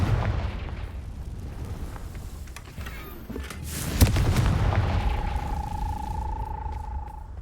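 Confringo fire spell in the Hogwarts Legacy video game, cast once with a sharp crack and a rumbling fiery blast that swells, then fades into a sustained roar under steady game ambience.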